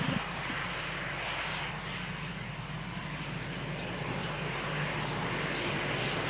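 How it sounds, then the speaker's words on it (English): An EasyJet airliner lines up at an airport, its jet engine rumble steady and fairly distant, a continuous broad roar across the whole stretch with no voices. "EasyJet lining up ahead of a BizJet in from Germany."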